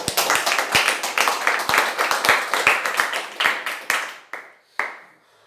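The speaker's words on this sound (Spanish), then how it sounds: "Dale un fuerte aplauso al Señor." A church congregation giving a short round of applause, a handful of close, sharp claps in an uneven rhythm that thins out and stops, with one last clap after a pause.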